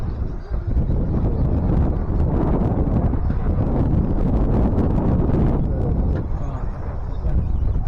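Strong wind buffets the microphone at an outdoor RC car race track, a loud, steady, low roaring rush that persists throughout with little change.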